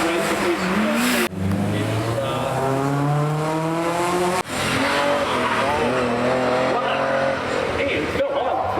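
Rally car at the Prescott speed hill climb sliding sideways through a corner, engine loud and close with rising revs and tyre scrub, heard under continuous commentary.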